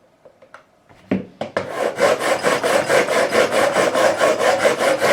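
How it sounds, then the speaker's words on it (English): A 300-grit diamond-coated file, milled flat, rasps steadily along the frets of an Ibanez Iceman guitar during a fret level, starting with a few tentative scrapes and then settling into a close, loud rhythm of repeated strokes with no talking. "milled perfectly flat, 300 grit diamond coating on there. It's a great file, does the job."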